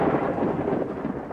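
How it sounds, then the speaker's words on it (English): Low, sustained rumble of thunder from an approaching storm rolling across the Drakensberg Mountains of South Africa, loud and continuous throughout with no rain or voices. "The hills echo the coming storm"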